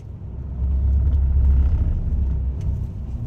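A giant truck rolls along a snowy mountain road in Colorado during a blizzard, giving a steady, loud low rumble of engine and tires that swells and holds without speech.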